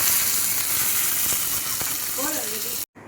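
Curry leaves, added with mustard seeds and urad dal, sizzle in hot oil for tempering, with a steady near hiss and a few crackles and stirring clinks, ending in a brief cut.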